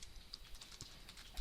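Quick, light clicks of typing on a computer keyboard while entering accounting journal entries, close and faint, a short run of keystrokes.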